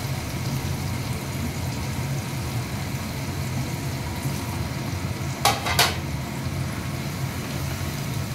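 Chopped onion and green chilli frying in a pan, a steady close sizzle throughout with a couple of brief sharp clinks of a utensil partway through, no voices.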